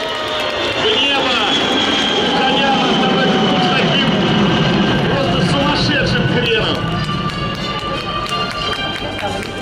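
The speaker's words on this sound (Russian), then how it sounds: "И вот мы слышим, добавлен режим работы двух двигателей, и Медведев взмывает в небо." A Beriev Be-200ES amphibious jet at the MAKS 2019 air show roars as both engines spool up to takeoff power. The loud, sustained whine and rumble holds throughout while a voice talks over it.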